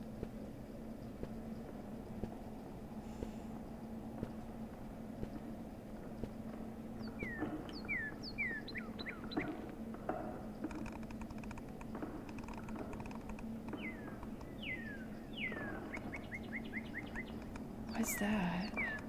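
Birds chirp in short bright bursts in a bird-watching video game, over a steady low hum with a clicking keyboard throughout.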